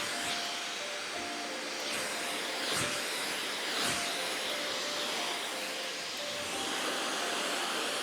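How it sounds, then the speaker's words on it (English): Hair blow-dried with a hair dryer for a voluminous 90s blowout, a steady close whooshing roar that swells slightly as the airflow shifts, with no talking. "So I'm blow drying everything up."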